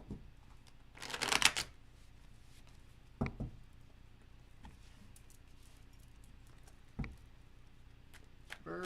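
A quick burst of tarot cards being shuffled, crisp riffling for about half a second, followed by a few soft taps and clicks against a quiet background.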